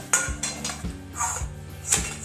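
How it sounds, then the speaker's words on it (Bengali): Spinach being chopped on a board with a kitchen knife for a Bengali egg-and-spinach dish, five or six distinct knife thuds spaced at a steady, unhurried rhythm, close and clear with no talking. "পালং শাকটা একটু কেটে নেব।"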